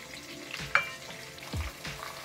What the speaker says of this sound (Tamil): இப்ப எல்லாத்தையும் நல்லா வதக்கிக்கலாம்